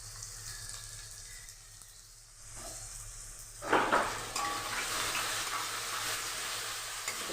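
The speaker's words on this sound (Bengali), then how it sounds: "এটা ভাজা ভাজা হোক, একটু কষানো হোক" Onions and tomatoes with masala fry in a pan, a soft continuous sizzle that jumps louder midway as a spoon stirs and scrapes the pan. The sizzle then carries on steadily, close by and without talk.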